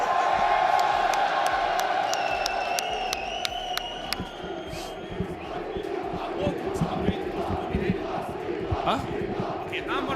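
Loud esports arena crowd at a Call of Duty League Major tournament, cheering and whooping continuously, with bursts of claps and shouts and a voice over the PA.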